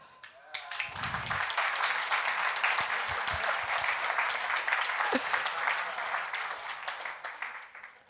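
Audience applause fills a conference hall at a web developer talk: sustained, dense clapping from a sizeable crowd that starts abruptly, holds steady for several seconds and tapers at the end, with no one speaking.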